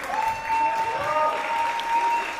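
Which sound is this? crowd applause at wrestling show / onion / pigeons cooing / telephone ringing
crowd applause at wrestling show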